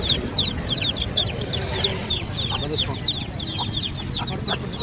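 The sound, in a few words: chickens at a poultry market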